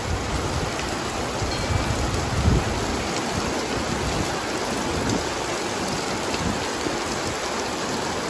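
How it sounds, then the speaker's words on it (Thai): Heavy rain falls outside a Buddhist temple's ordination hall in Pathum Thani, Thailand, a dense, steady hiss that fills the whole stretch without pause, with a few louder splashes and no voices. "ฝนกำลังตกเย็นสบายเลย"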